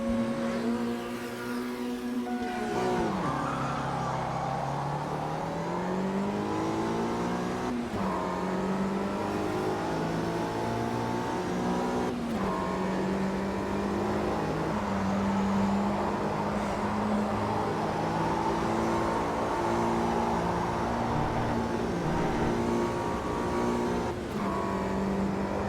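A 1965 Mini Cooper S races around Mosport in Automobilista 2, its small engine droning loudly and continuously, pitch climbing and dropping through repeated gear changes, with no talking.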